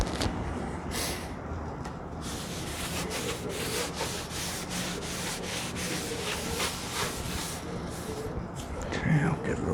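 A rag wipes wood stain onto boards, producing rhythmic, close rubbing strokes of cloth over the wood at a steady pace, with a person talking over part of it.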